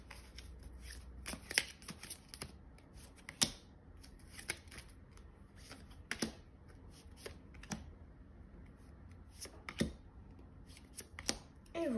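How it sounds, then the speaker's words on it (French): Tarot cards from a witch-themed deck are laid down one after another in a quiet room, giving soft, scattered slaps and brushes at an irregular pace, faint and close. "On va recouvrir avec le tarot Histoire de sorcière."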